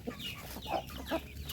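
Chickens cluck in short, lively bursts close by while being fed on a farm outdoors, a steady murmur of fowl beneath the louder calls.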